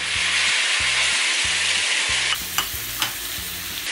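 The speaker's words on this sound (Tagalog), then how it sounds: "Then igisa lang natin siya. Together with our pork." Squash and pork sautéed in a pan produce a loud, close sizzle with rhythmic scraping stirs at first, then a few sharper clacks of the utensil against the pan. There is no talking.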